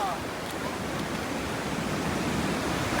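Sea waves wash steadily at the shore, a loud, continuous rushing surf with no breaks, heard up close.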